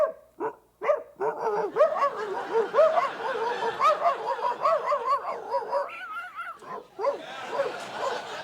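A voice imitates two dogs fighting, a run of growls, yips, snarls and barking bursts, close and loud, in a comedy sketch.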